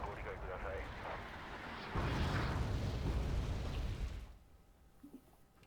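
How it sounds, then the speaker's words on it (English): Mortar fire in the Wargame Red Dragon strategy game lands as a rolling series of deep, muffled booms and rumbles, swelling midway then fading to a quiet tail with a couple of small pops, with faint talk underneath. "Is that mortar fire though?"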